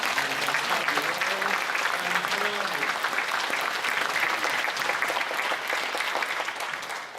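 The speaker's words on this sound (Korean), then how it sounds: "우리 다시 한번 박수로 영광 올려드리겠습니다" A church congregation at a New Year's Eve service claps together in sustained, dense applause that fills the room, with some voices audible underneath before it gradually fades.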